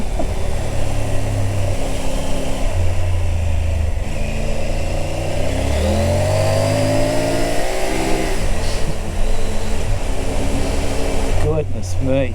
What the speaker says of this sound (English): The power of this bike is ideal for dirt riding.